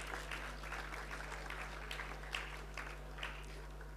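A graduation convocation audience claps steadily for a student crossing the stage, with a dense, even patter of many hands over a constant low electrical hum and no talking.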